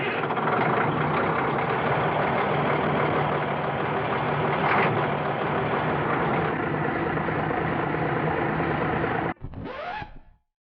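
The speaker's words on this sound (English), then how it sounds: "Iveco truck that was transformed from a diesel engine truck into an electric drive." An Iveco EFORCE electric truck, converted from a diesel truck to electric drive with Brusa motors, runs with a steady, close, droning hum that holds for about nine seconds before it cuts off, followed by a brief rising whine.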